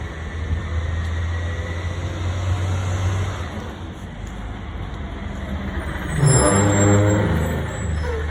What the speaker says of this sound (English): dump truck almost killed me.